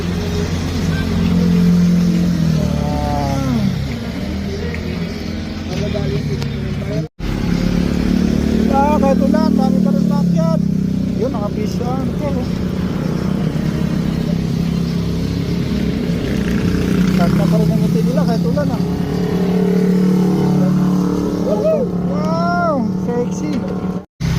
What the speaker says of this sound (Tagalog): Ganda ng motor na yun ah.